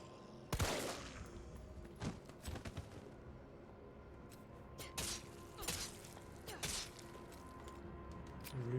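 Gunfire in a Resident Evil 3 Remake game session: several separate bursts of shots and rapid fusillades, loud and sharp against a low game ambience, with some clattering mechanical and breaking sounds between them.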